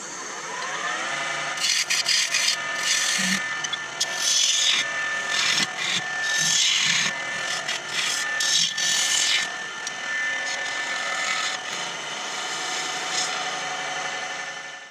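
A wooden pear being shaped on a woodturning lathe, with continuous close scraping and rubbing of the tool against spinning wood, rising and falling in short rasping surges over a steady motor hum.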